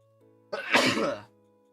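A single sharp sneeze bursts out close to the mic, loud and brief, with faint background hum before and after.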